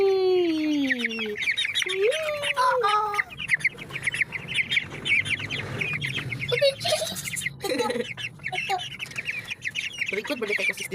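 A brood of 16-day-old Bantris chicks peeps and chirps in a continuous, busy chorus of high, falling calls, close by, with occasional faint human talk in the background.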